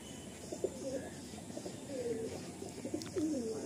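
A Madrasi or Andhra pigeon held in the hand, cooing softly in several short throaty phrases, close by, with faint handling rustle and no talk.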